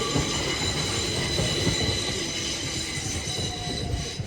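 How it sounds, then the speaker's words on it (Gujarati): A train runs on rails close by with a steady, loud rumble and rhythmic wheel clatter, and a thin metallic wheel squeal rides on top throughout, with no voices. "અને આ ટ્રેનનો અવાજ છે ને"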